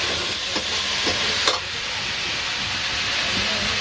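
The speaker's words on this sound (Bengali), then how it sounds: "লবণ একটু ভেজে তারপরে আলু ছেড়ে দিচ্ছি" Salt and cut potatoes fry in a hot pan, with a loud broadband sizzle and a few sharp stirring scrapes early on, then a steady hiss, close up with no talking.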